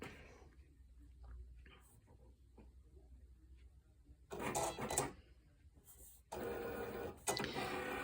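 A Cricut cutting machine cutting through material on a loaded mat, with faint whirring and small mechanical movements that give way to louder bursts of carriage motion, close by and without speech.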